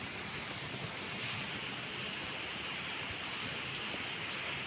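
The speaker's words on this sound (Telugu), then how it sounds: "అయినా మబ్బు పట్టినది, వాన పడుతున్నది." Rain falling in Hyderabad under cloudy skies, a dense, even hiss of drops that runs steadily throughout, fairly quiet and with no voices.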